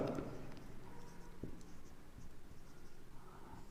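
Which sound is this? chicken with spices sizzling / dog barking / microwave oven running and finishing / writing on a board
writing on a board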